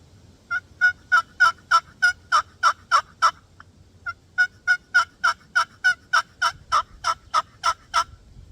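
A turkey call gives two long runs of loud, evenly spaced yelps with a short pause between them, a caller imitating a lost hen yelping to find the flock.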